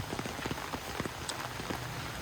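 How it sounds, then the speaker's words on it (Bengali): Steady rain falls on a rural homestead beside a pond with taro plants, making a continuous hiss with scattered nearby drips and taps, heard alone without voices. "তা এখানে এরকম বৃষ্টি হইতেছে"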